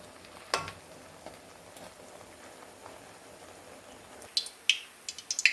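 Crispy homestyle snacks deep-fry in hot oil with a soft, steady fizzing bubble, low in level, broken by a few sharper crackles and spits toward the end.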